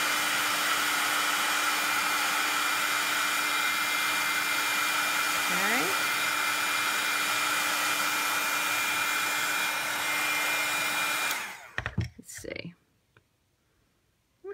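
A heat tool blows a loud, steady hot-air whine over embossing powder on a stamped card. A brief soft voice is heard partway through, and the tool cuts off near the end with a few clicks.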